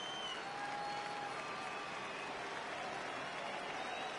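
Virtual stadium crowd in MLB The Show 19 during a Phillies versus Yankees spring training game, a faint, steady wash of cheering and applause rising as fans get up for a full count.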